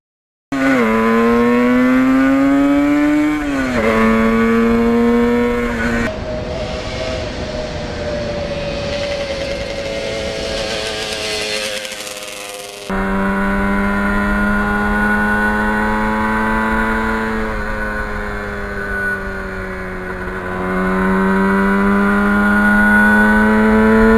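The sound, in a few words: 1977 Yamaha RD400 motorcycle being ridden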